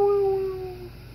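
A dog howls in one long, steady, wavering note that starts loud and close, then gradually fades away, with no voices over it.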